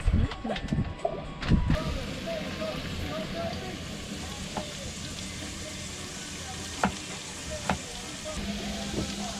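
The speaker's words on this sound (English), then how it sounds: "We are having some stir-fry vegetables over noodles." Vegetables stir-frying in a pan aboard a sailboat give off a steady, close sizzle with a few sharp clatters and stirring knocks near the start, continuing evenly without speech.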